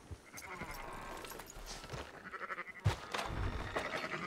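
Sheep bleat amid livestock in the open-world Western video game Red Dead Redemption 2, with several short, near calls over faint farm ambience and one louder bleat standing out.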